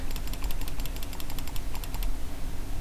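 A computer mouse is clicked in a rapid, steady burst for a clicking-speed challenge, loud and close, the quick clicks running for about two seconds before stopping.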